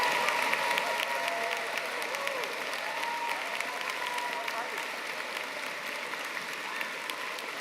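Sustained, dense applause from a large audience at a mathematics faculty graduation ceremony, steady and loud throughout with crowd noise and some voices mixed in.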